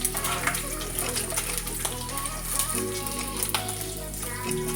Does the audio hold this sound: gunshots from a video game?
no